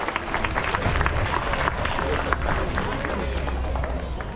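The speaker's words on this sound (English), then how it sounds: "You guys can give her a nice round of applause." Audience applause at an outdoor bird show in a bird garden, steady dense clapping from a crowd filling the whole stretch with murmuring voices mixed in.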